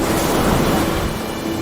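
Rough, agitated sea off Easter Island with strong currents, a loud continuous roar of surf and wind washing over the microphone, no voices.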